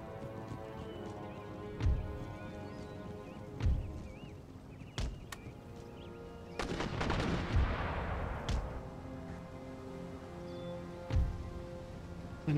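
Artillery booms in an Empire Total War battle against French troops: several deep, sharp blasts spread irregularly through the clip, with a longer rumbling barrage in the middle and one more boom near the end, heard alone without talk.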